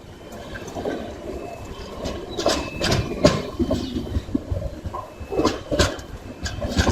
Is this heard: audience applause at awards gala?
no